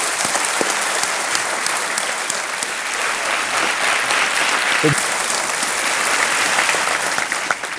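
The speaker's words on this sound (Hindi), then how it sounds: "एक बार फिर तालियों के साथ हम आपका स्वागत करते हैं" A studio audience on a televised game show claps continuously and loudly to welcome a guest, and the sustained applause fills the whole stretch.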